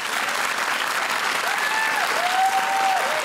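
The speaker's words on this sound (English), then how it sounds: "they deserve the big applause" Continuous audience applause rewards a panel of women guests on a televised Q+A discussion show, with a faint tonal whistle or voice rising briefly through the clapping.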